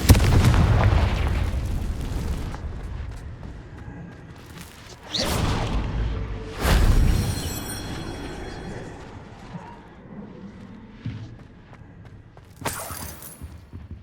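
Blasting-spell explosions in the fantasy game Hogwarts Legacy: a rumbling burst at the start, then two sharp booming blasts a couple of seconds apart, and a last crack near the end, with quieter game ambience between.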